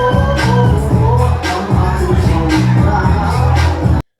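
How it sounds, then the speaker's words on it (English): A Carnival cruise crowd stomps and claps clack fans in a dense, rhythmic clatter that keeps going loud and near, with voices mixed into the din. "that's the noise of the fans"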